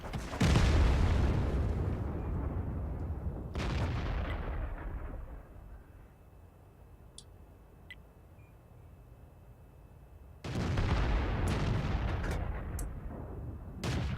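Tank cannon firing in the video game World of Tanks: two heavy booming shots several seconds apart, each followed by a long rumbling decay, with faint game clicks in between.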